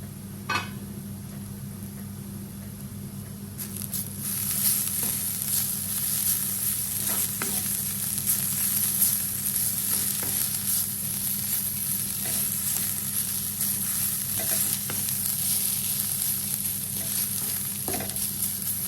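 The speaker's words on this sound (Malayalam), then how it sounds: "നമുക്കിനി ഇത് നന്നായിട്ടൊന്ന് ഇളക്കിയിട്ട് ലോ ഫ്ലെയിമിലിട്ട് ഒന്ന് അടച്ച് വെച്ച് ഒരു 2-3 മിനിറ്റ് കുക്ക് ചെയ്തെടുക്കാം" Kerala onion thoran cooking on a low flame, a steady close sizzle that swells after a few seconds, with scattered scraping stirs and clinks throughout and no one talking.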